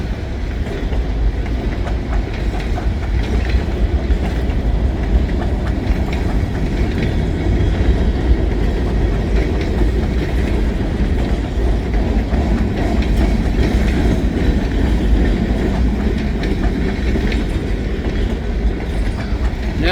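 A train rumbles past close by for a long stretch in heavy snow, steady heavy roar with rhythmic clattering of wheels over the rails.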